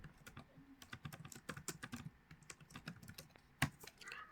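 Text being typed on a computer keyboard, a quick, irregular run of close key clicks with one louder strike near the end.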